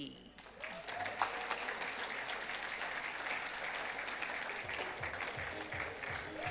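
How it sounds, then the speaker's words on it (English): Audience at a Kruger centenary gala dinner applauds an award recipient for sustained service, dense, steady clapping throughout with a few faint voices and low sounds near the end. "Please help me make a round of applause for Nombolo"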